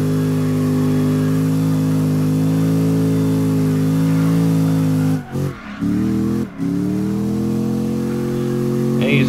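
A Corvette Z07 engine in CarX Drift Racing 2 holds a loud, steady high-rev drone, dipping twice in quick cuts before climbing back, with no voices.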